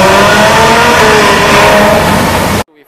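A red Ferrari 812 Superfast at a concours event in Singapore lets out a loud, sustained engine roar that holds steady close by for over two seconds, then cuts off abruptly into near silence.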